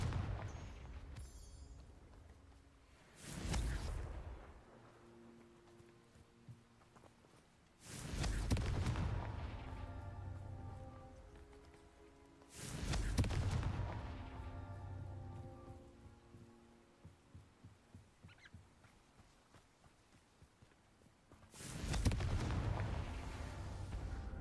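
Confringo fire spells blast in Hogwarts Legacy, four heavy booming explosions spaced several seconds apart, each a loud burst trailing into a rumbling decay, with quieter ambience between.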